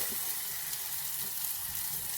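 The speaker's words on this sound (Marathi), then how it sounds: "छान परतून घेऊया फोडणीमध्ये कांदा" Chopped onion and tomato fry in hot oil tempering for South Indian sambar, a steady, even sizzle with soft crackles, close and continuous with no talking.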